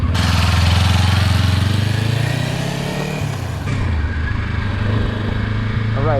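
A motorcycle engine pulls away loudly in first gear during slow-speed riding. The revs rise and then ease off, and a rider's voice is heard briefly over the engine.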